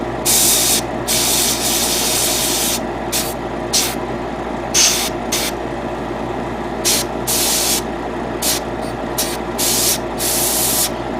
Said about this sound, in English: once I'm done spray painting the back part